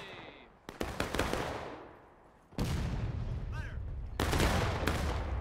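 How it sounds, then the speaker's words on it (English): An artillery round from a War of Rights battle at Piper Farm slams into a wall, heard as sharp broadband blasts and booming impacts with a rumbling tail, amid scattered musket fire. "So that arty shot got buried into the wall there"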